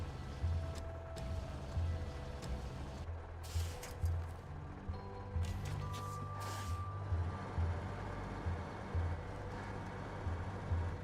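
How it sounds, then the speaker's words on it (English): A truck fitted with the 963 engine in SnowRunner reverses with a steady low engine drone, while repeated reversing beeps and brief air-brake hisses sound close by throughout. "the 963 engine sounds fucking amazing"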